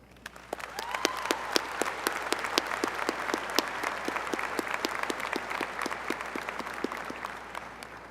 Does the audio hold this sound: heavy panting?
no